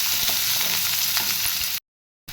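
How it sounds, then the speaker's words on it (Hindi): Onion and garlic sizzle lightly in a pan for a vegetable fried rice, a steady close frying hiss with faint stirring that cuts off abruptly near the end, then briefly resumes. "पियाज और रसुण को आमे हल्का भाजी नेबा।"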